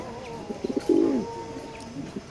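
A pair of racing pigeons coos up close, with a few short soft notes and then one fuller, louder coo, alone and without talk.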